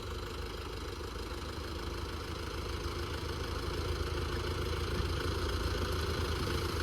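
A tractor engine running steadily during farm work, a continuous low rumbling drone with slight clatter, fairly close and unbroken, with no talking.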